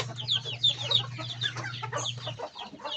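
Domestic chickens cluck and call in a burst of overlapping notes at feeding time on a farm where ducks are also kept, with a low steady hum underneath for the first two seconds.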